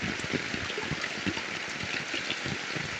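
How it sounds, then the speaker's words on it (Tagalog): Strong rushing water floods a farm path in bad weather, a steady broadband roar close by with no voices. "Ang lakas po ng tubig"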